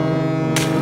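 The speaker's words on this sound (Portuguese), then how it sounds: "Esta é a sirene do barco. Faz um barulho muito alto que diz aos outros barcos que estamos por perto." A deep, loud, sustained cartoon boat horn blast drones steadily throughout, with a brighter noisy layer joining partway through.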